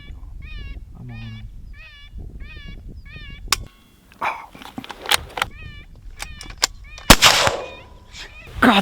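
Gunshot fired during a coyote hunt in Oregon, a sharp loud blast cutting through outdoor ambience, with an electronic predator call and faint movement around it, plus other brief sharp cracks.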